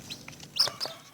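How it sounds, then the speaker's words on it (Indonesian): A farm-raised chicken giving a few short clucks, close and fairly quiet, with soft overlapping calls over light background noise. "berikut perlihatkan ayam ini, ayam luar biasa"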